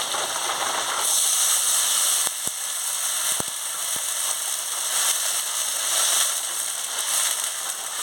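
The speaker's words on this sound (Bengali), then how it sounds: "এবারে আমি পরিমাণ মতন জলটা দিয়ে দিচ্ছি" Water added to fried chalta (elephant apple) pieces in a pan for chutney: a loud, sustained steamy hiss that swells and eases, with a few sharp clicks partway through and no voices.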